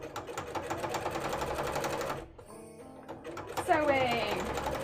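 A sewing machine runs close by, stitching a zigzag seam on stretch fabric with a fast, even mechanical rattle that stops briefly and then starts again, while a voice is also heard in the clip.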